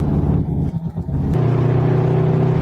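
Volkswagen Golf 7R Variant engine and turbocharger pulling hard under acceleration, a loud steady low drone that dips briefly near one second, as with a gear change, then settles into a strong sustained tone.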